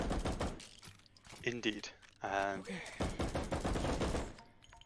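Semi-automatic shotgun fired in a video game: a few sharp blasts come in a short burst, partly masked by steady talking.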